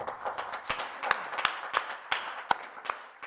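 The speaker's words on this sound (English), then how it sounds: "They deserve our applause." Scattered clapping from a small symposium audience in Sarajevo, sharp uneven claps at a moderate distance, fairly quiet and with no voices.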